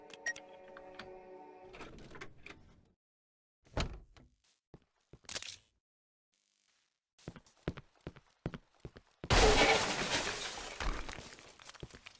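A door in Cry of Fear being unlocked with a rusty key and opened: tonal mechanical rattling, sparse metallic clicks and knocks separated by silence, then a sudden loud burst of harsh noise that slowly fades.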